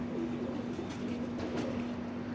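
A plain-eyed homing pigeon makes a soft low coo, close and quiet over a steady hum and background noise, with no talk.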